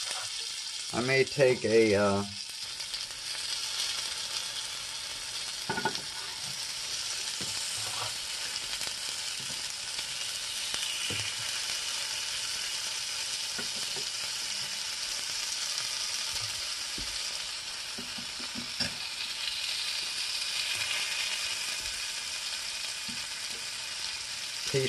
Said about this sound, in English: Add some butter to each one of these, probably way more than I need.